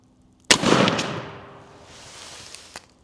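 A single 20-gauge shotgun shot fired at a turkey target at 70 yards outdoors, one sharp loud blast followed by a long rolling echo that fades slowly.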